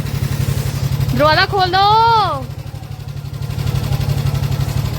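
A motorcycle engine runs steadily close by with a low, even throb, reaching its loudest stretch at the end after arriving home on a cold night. A voice calls out partway through, briefly sitting over the idle.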